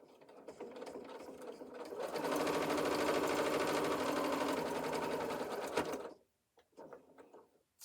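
A sewing machine stitches a quarter-inch seam on an apron in one long, loud, steady run of about six seconds, then cuts off, followed by a few light handling sounds.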